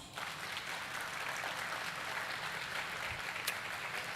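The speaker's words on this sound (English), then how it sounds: "We're going to clap after 2." An audience at a student orientation breaks into sustained, dense applause, many hands clapping together at once in a large room and holding steady throughout.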